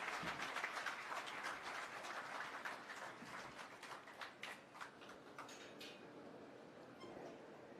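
At a political rally in Himachal Pradesh, a crowd applauds Arvind Kejriwal with dense clapping that is strongest at first, then thins into scattered claps and fades toward the end.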